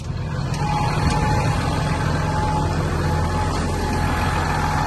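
A Massey Ferguson 7622 tractor with a 220-horsepower engine in great condition, running steadily at idle close by with a deep, even rumble and no talking.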